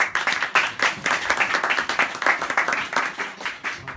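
An audience at a press conference for a migrant workers' literature award claps in welcome, dense and steady applause close by that holds for the whole stretch without a break.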